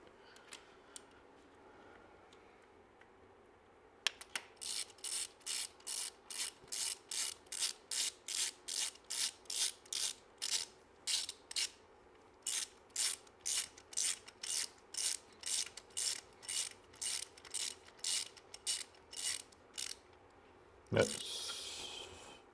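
A ratchet wrench clicks in a long run of regular, close strokes while tightening a bolt during an engine rebuild in a garage, pausing briefly midway, with a louder clank near the end.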